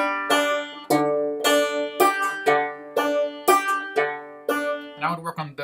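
Two measures of Jingle Bells are fingerpicked on a plucked string instrument, a series of crisp, bright plucked notes in a steady rhythm, heard close and solo with no talking.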